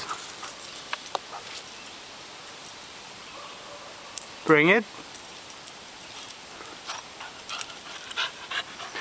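A dog pants in quick, steady breaths after fetching a stick, close by, while a person speaks to it briefly.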